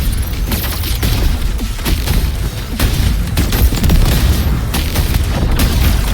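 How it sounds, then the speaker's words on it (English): Repeated heavy booms of grenade explosions in the video game Wuthering Waves, loud, dense and overlapping, with crashing impacts in a near-continuous barrage of combat noise. "More grenades!"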